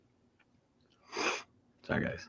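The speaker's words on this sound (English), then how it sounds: "You sneezed." A single sharp sneeze bursts out loud and close, followed by a short apologetic remark from the same person.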